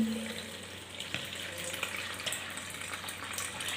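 Water runs steadily from a bathroom tap as hands are washed, a close hissing splash with a few small clinks and knocks, no talking.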